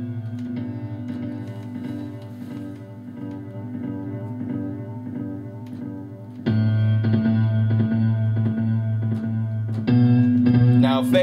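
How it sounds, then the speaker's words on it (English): An electric guitar plays through a tape echo effect, with a repeating picked pattern whose notes smear into echoing repeats, then louder strummed chords join near the end. "Tape echo."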